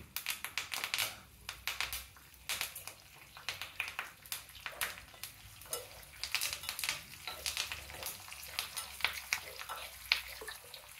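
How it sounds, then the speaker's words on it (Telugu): A tempering of garlic cloves, a pinch of turmeric and curry leaves fries in oil for gongura chutney, a quiet, close, steady crackle with irregular small pops throughout. "ఇది గోల్డెన్ బ్రౌన్ వచ్చే వరకు ఈ తాలింపు వేగాలండి."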